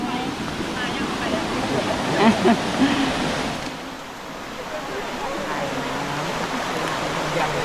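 Krok I Dok waterfall and its stream: steady rushing water noise fills the scene, close and continuous, with a voice faintly talking over it.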